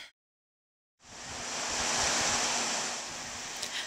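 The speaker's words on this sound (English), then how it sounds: "now it exits the Columbus Powerhouse. It goes into the Tailrace Canal" Water pours out of the Columbus Powerhouse into the Tailrace Canal of the Loup power canal system, a broad steady rushing roar that starts abruptly after a second of silence and holds loud and even to the end.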